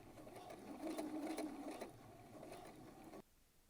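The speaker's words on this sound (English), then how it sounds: "and don't forget to backstitch." A sewing machine stitches bias tape around a dress neckline, backstitching in a short, close, whirring burst that rises and falls in speed before stopping abruptly.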